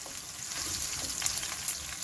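Onion frying in a pan for tomato rice, a soft steady sizzle with faint crackles and a couple of small pops, quiet and close with no talking.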